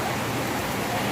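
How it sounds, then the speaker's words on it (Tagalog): Steady rain hisses down in a dense, even wash of noise, close and fairly loud. "Umuulan."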